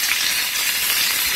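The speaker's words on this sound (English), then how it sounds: "We're gonna add the onion," Chopped onion hits a hot frying pan with a loud, steady sizzle that holds close and constant the whole time, a dense frying hiss with no talking over it.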